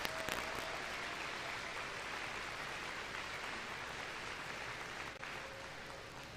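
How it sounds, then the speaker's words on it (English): An assembly audience applauds a sheriff's honor color guard at a school Veterans Day event, a sustained, dense wash of clapping that stays even and fairly distant for several seconds. "Let's give them a round of applause"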